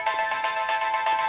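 A track plays from the small built-in loudspeaker of a Nokia Asha 210 phone, a thin, steady, tinny stream of music with a pulsing beat and no voices over it.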